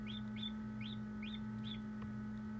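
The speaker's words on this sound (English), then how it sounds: "I heard a little chirping and I came in here and I have a baby chick that has hatched" A newly hatched baby chick in an incubator gives five thin, rising peeps at an even pace, over a steady electric hum.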